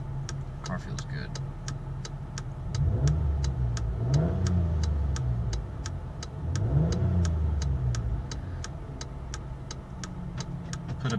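A car cruises on a test drive, its mid-pitched engine hum swelling twice as it accelerates, while a steady ticking repeats at a regular beat throughout and voices speak faintly in the cabin.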